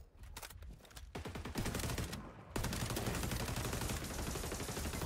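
Rapid automatic gunfire from the shooter game XDefiant, a dense, continuous rattle of shots that thickens and grows louder partway through, with no talking.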